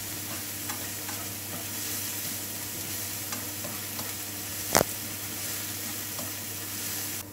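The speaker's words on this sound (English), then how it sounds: "Medium heat, fry this about 3 to 4 minutes until" Curry leaves, onion and chilies frying over medium heat hiss in a steady, moderate sizzle with small pops and occasional stirring, plus one sharp knock midway, all close and without talk.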